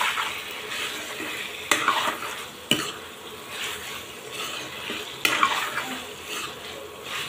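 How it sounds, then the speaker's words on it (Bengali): Beef pieces sauté in a pan while being stirred, a continuous sizzle broken by several sharp scrapes and clinks of the spoon against the pan. No one speaks. "এখন মাংসটা দিয়ে এখন সুন্দর করে মাংসটাকে কষিয়ে নেব"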